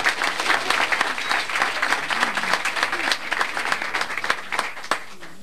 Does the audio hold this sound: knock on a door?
no